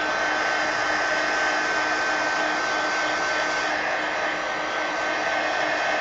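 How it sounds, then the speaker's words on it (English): A heat gun blows steadily over an art journal page, a loud, constant broadband whoosh with a faint whine, close and unbroken for the whole stretch with no talking. "Heat gun."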